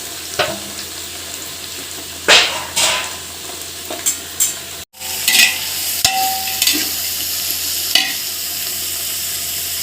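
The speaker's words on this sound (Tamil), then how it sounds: "இப்போ வெங்காயத்தை நல்லா வதக்கி போட்டுடலாம்." Chopped onions sauté in hot oil in a large pot for a big batch of chicken biryani: a steady sizzle broken by several sharp scraping stirs of a spoon against the pot.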